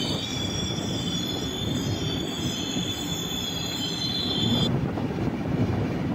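A sleeper class train on the Nagercoil to Kollam route rolls into Paravur station with loud, sustained high wheel squeal over a rumbling rail roar that cuts off near the end, heard close with no speech.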